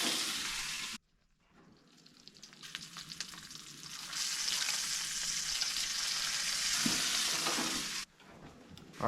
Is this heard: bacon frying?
yes